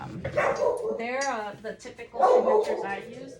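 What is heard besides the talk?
dog barking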